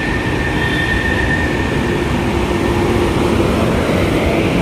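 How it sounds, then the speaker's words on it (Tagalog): An LRT train runs past Redemptor Station in Baclaran, a loud steady rumble of rail wheels with a faint high squeal, close by and continuous throughout. "kung makikita nyo yung isang train LRT"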